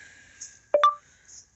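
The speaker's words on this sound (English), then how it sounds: "I have no idea why my phone just made that noise" A mobile phone gives a short electronic alert chirp outdoors on a soggy day at a cattle ranch, one brief double tone, faint and close, with a quiet background.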